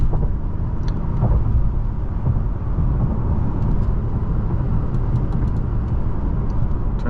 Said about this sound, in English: We're gonna do a full pedal drop down here, 2 downshifts, good amount of pickup